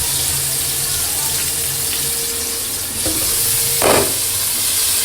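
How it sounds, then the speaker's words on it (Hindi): A kitchen exhaust fan runs loudly during home cooking, a steady broadband roar filling the whole clip, with a short clatter near the end. "आप लोगों को बहुत ज़्यादा आवाज़ आ रही है क्योंकि इस वक्त चल रहा है एग्जॉस्ट चल रहा है।"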